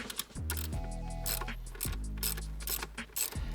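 A ratcheting tool turns out E6 Torx screws on the coolant reservoir of a BMW G80 M3 with the S58 engine, giving quick repeated clicking bursts between pauses, close and fairly quiet, with no talking.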